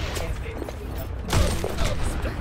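Rapid gunfire from a shooter video game crackles under lively voices, with a heavier burst of shots around the middle and steady firing throughout.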